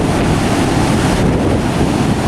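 Loud ocean surf rolls onto Parangtritis beach in a steady unbroken roar, with wind buffeting the microphone throughout.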